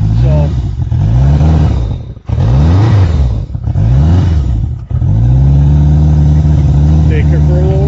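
A motorcycle engine, warmed up for about five minutes on a chilly wet day, runs loud and close with a steady low idle, briefly rising and dipping in revs, with speech-like tones mixed in.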